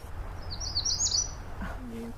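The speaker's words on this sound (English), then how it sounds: "We're on the hunt for, what was it again? A magnolia warbler." A magnolia warbler gives a high, thin twittering call from the leaves of an Adirondack woodland at John Brown Farm, a brief faint burst over soft ambient hum, followed by a low murmur.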